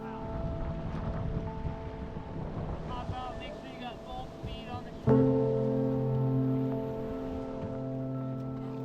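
A motorboat engine drones steadily over Alaskan water near Skagway, its pitch shifting midway, with wind noise rushing against the microphone and a voice briefly in the background.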